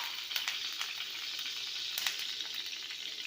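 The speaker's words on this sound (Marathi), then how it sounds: "आता आपल्याला पॅनमध्ये 2 पळी तेल घालून घ्यायचं आहे। त्याच्यामध्ये 1 चमचा जिरं घालायचं आहे।" Cumin seeds sizzle in hot oil in a pan, a steady bright frying hiss with several sharp crackling pops scattered through it. No one speaks.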